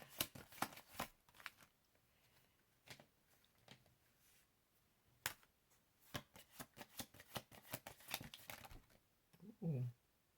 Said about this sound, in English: I'm going to toss the cards everywhere.